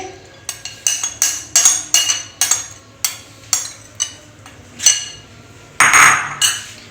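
Grated potato is mixed into chicken pakora batter in a bowl, a run of crisp, ringing clinks as a utensil strikes the dish in an uneven rhythm, close and fairly loud, with a brief scraping swirl near the end.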